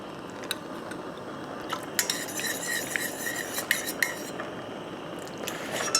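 A metal spoon stirs a mixture in a bowl, with repeated close clinks and scrapes against the side in an uneven rhythm over a low steady background, no voices.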